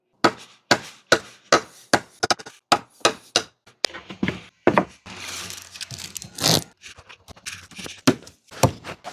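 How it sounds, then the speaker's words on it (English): Tracker knife chopping into wood, a steady run of sharp, loud thwacks about twice a second, then a stretch of rustling and scraping before a few more scattered chops. "it makes a great chopping tool."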